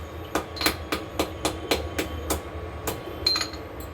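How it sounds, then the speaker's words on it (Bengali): Rock sugar (mishri) is crushed for a chutney with a dozen or so sharp, fairly soft pounding knocks at a steady, quick rhythm. "এখানে আমি বেশ কিছুটা মিছরি একটু গুঁড়ো করে নেবো কারণ চাটনিতে দিতে লাগবে"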